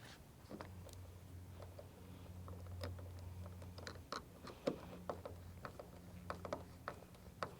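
Washers and nuts being fitted and tightened onto the forward mount bolts of a Minn Kota Riptide Terrova trolling motor on a saltwater boat, with faint metallic clicks and ticks of hardware and a low hum, no talking.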